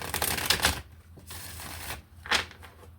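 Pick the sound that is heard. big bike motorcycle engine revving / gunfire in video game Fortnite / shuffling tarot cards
shuffling tarot cards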